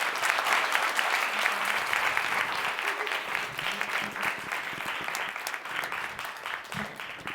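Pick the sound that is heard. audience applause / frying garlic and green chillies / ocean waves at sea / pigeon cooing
audience applause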